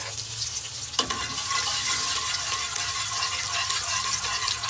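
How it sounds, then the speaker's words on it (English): Garlic sizzles and fries in a hot pan for roast baigan, with a steady, loud crackling hiss that starts abruptly about a second in and continues throughout without any talk. "We're going to put our garlic to burn."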